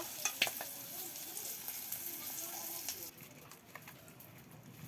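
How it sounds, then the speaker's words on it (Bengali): Fish frying in oil in a pan over a clay stove in a rural kitchen gives a steady crackling sizzle with sharper pops early on, which settles softer partway through. Faint background sounds from the surroundings come and go. "মাছ ভাজি করা হয়ে গেছে তখন তুলে নেব"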